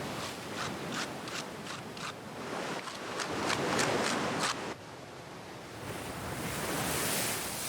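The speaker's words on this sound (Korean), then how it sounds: "그나저나 파도가 이렇게 몰아치는데 괜찮을까요?" Rough winter surf pounds a rocky shore on Ulleungdo island, a continuous loud wash of breaking waves with repeated rattling hiss bursts, close by and with no talking.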